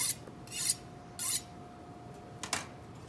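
A blade drawn across a sharpening tool, taking metal off to form a new edge: three separate rasping strokes, bright and scratchy, each about half a second long, close and isolated against a quiet background.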